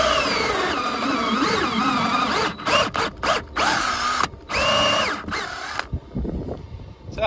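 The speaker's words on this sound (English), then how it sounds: "So cut a piece of felt and I'm just going to drill through there." A power drill whines steadily as it bores through felt inside a stealth campervan, the motor cutting out in several short bursts toward the end before falling quiet; close and loud.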